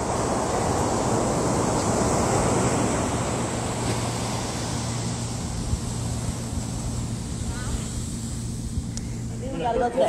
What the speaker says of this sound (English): You can see the waves coming from way out there.